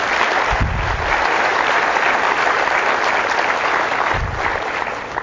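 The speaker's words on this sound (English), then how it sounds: "Give them a round of applause." An audience breaks into steady, dense applause that fills the room loudly and evenly, holding strong throughout before easing slightly near the end, with no one talking over it.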